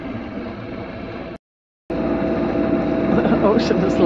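Sailboat motoring on its engine in windless, mirror-calm Danish waters, a steady low drone broken by a brief gap of silence, then resuming with faint voice-like sounds on top.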